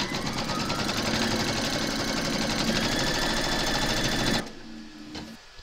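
An embroidery sewing machine stitches a round on a hooped ornament card with batting, a loud, fast, even mechanical chatter running steadily before cutting off near the end.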